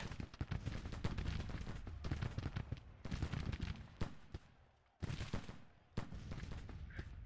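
Gunfire from a Civil War battle in the strategy game Grand Tactician, dense crackling volleys of musket shots in rapid bursts, with brief pauses between flurries.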